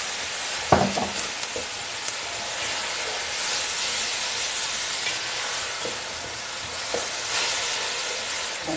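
Leek, garlic and tomato sizzle and fry steadily in a pan while a utensil stirs them, with a few sharp scraping knocks near the start and later, close and continuous without talk.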